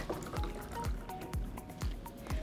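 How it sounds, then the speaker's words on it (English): Milk with brown sugar syrup poured into a rimmed glass, a close, quiet liquid gurgle with regular glugging pulses about twice a second. "And pour it into"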